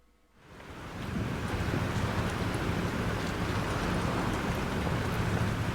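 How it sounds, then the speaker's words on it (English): Storm wind and rain in the video game Life is Strange, a steady, dense roar of wind and rain that swells up in the first second and then holds loud and unbroken, with no voices. "This storm is real."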